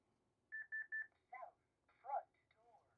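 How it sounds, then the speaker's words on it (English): A Lyric alarm controller chimes during an AC power loss: four quick identical beeps, then two short tonal chime phrases, clear but fairly quiet in a silent room. "any type of zone faults or an alarm, the system will chime and it will give you an audible announcement"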